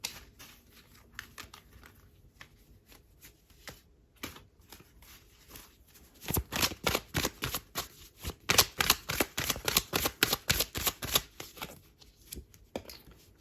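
Tarot cards handled and drawn: soft slides and taps at first, then a dense burst of rapid riffle-shuffle flutters, close and crisp, with no talk.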